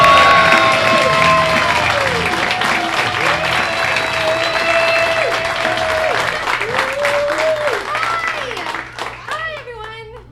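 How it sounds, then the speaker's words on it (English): Loud applause and cheering from a live improv-show audience for a singer, dense clapping and whoops close by, with a voice and tonal sweeps over it as the noise fades toward the end. "I can't even believe that you clapped for me."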